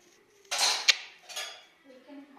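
Kitchen utensils and dishes being collected at home: a couple of sharp metallic clanks and a bright clink, then a lighter rattle, with a voice talking quietly at the end.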